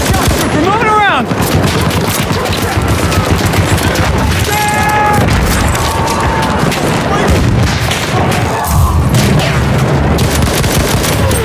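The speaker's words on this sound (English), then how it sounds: "Enemy machine gun sighted!" Battlefield combat soundscape with sustained machine gun fire and scattered gunshots, loud and continuous throughout amid background battle noise and muffled voices.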